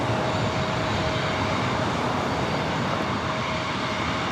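A Delta Airbus A350 moving on the ground at LAX, a steady broadband roar of jet engines with a faint tonal whine, continuous and fairly loud, with no talk.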